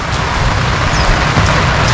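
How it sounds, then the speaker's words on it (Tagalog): Heavy rain pours down steadily ahead of a flood in a rural farmyard where pigs and goats are kept, a dense, unbroken roar of water with no voices over it. "Pati ang ulan, lakas na."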